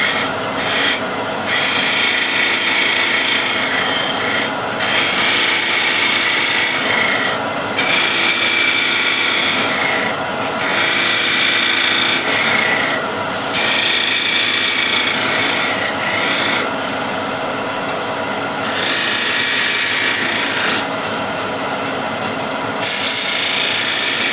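A wooden handle is scraped into a curve with a hand scraper, a continuous close, loud rasping that runs steadily for a long stretch, broken by brief regular pauses between strokes, with no talking.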